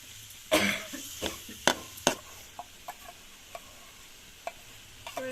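Taro stalks being stirred with spices in a pan: a handful of scraping, clattering strokes spread over a few seconds, loudest at the start and thinning to softer occasional scrapes over a faint background sizzle.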